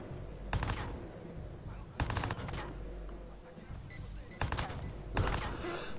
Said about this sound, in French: C'est des petits tirs peut-être qui sont.